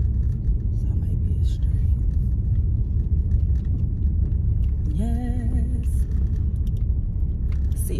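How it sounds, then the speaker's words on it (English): A car pulling up into a drive-through lane, heard as a steady low engine rumble and road noise throughout, with a voice speaking over it and a brief tonal whine near the middle. "Okay, this car whipping up in there."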